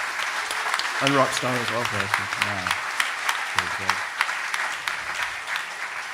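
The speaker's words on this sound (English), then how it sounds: "Can we get a round of applause" Applause from a conference audience at an open-source event, a steady wash of clapping under a voice speaking close to the microphone throughout.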